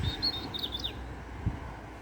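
Sparrows and starlings at an allotment let out a few faint, brief chirps and tweets early on, distant and soft over low outdoor background noise.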